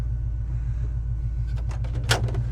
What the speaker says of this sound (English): Doors close nice.